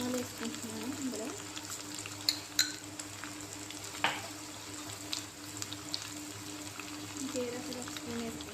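A spoonful of mustard seeds hits hot oil in a pan for radish sambar, giving a low, soft sizzle with scattered pops and clicks, while a person talks quietly over it.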